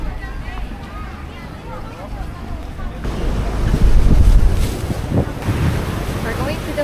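Wind buffets the microphone aboard a fast craft crossing open water, with steady rushing noise and churning spray that swells louder midway through, while voices talk faintly underneath.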